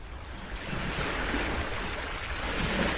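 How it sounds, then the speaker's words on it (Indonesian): Waves wash in at a beach in a steady, continuous roar, mixed with wind buffeting the microphone and no voices. "Gue lagi ada di dekat pantai."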